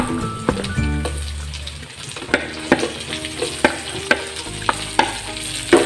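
Garlic with white and red onions stirring and sizzling in hot oil in a pan for Ilocano-style Bicol express, with a steady fry hiss and repeated scraping clicks of a spatula, close up and without talk.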